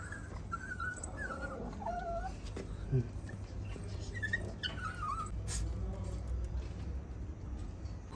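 Soft, high puppy whimpers come in a scattered series of thin whines, fairly faint against a steady low background.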